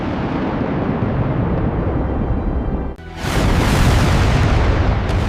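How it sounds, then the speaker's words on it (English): A surface-to-air missile launches at night from an air-defence battery in wartime Yugoslavia, the one that downed an F-117 Nighthawk. A steady, heavy rushing roar dips for an instant, then surges back louder and fuller. "Seconds later, the silence ended. The first missile climbed rapidly into the night sky."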